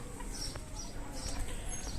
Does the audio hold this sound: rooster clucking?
yes